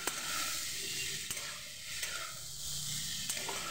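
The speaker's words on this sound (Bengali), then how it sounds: "এবার একসাথে সব নেড়ে নেবো।" Chickpeas with cumin powder and chili powder are stirred in a frying pan for a pumpkin dish, giving a steady close sizzle with a few sharp scrapes of the utensil against the pan.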